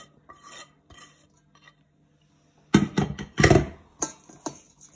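Fish cake mixture with onions, chilies, mint and coriander being mixed in a bowl, starting with soft scattered taps, then a dense burst of wet stirring, squelching and clinking, loud and close.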